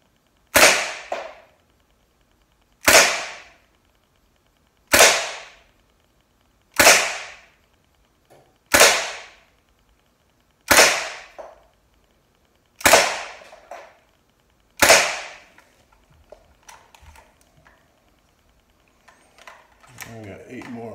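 A Gamo PT-85 pellet pistol fires eight sharp, close, loud shots at an even pace about two seconds apart, each with a short decaying ring, followed by quieter handling sounds.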